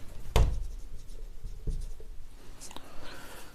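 Handwriting during a grammar lesson, pen or chalk scratching and tapping against the surface in short strokes, with one sharp knock near the start and quieter marks throughout.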